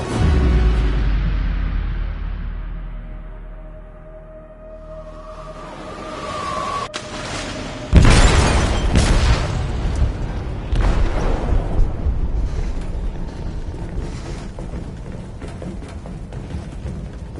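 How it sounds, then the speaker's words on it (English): An explosive detonates in a ship's hold in the video game Detroit, a sudden loud boom at about eight seconds followed by rumbling, crashing debris and mechanical clatter that fades slowly, after a quieter stretch of low ambience. "They detonated an explosive in the hold."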